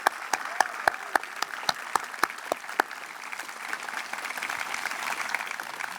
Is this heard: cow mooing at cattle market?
no